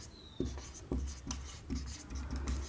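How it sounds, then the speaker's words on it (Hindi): Chalk or marker taps and scratches across a board as a teacher writes, a series of quiet, rhythmic strokes in a room. "यहाँ लिखते हैं आफ्टर बेंडिंग"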